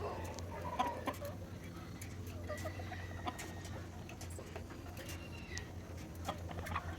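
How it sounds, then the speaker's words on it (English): Backyard hens clucking in short, scattered calls over steady outdoor ambience, with a faint distant crow and bird chirps mixed in. "This beautiful chicken's really just healthy, strong, happy."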